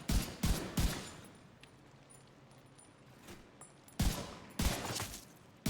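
Rifle fire from the video game The Division 2, heard as several separate sharp bursts of shots in two clusters, loud and close, with quieter game ambience between them.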